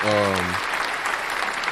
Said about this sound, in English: I know you did not give yourself a hand clap of applause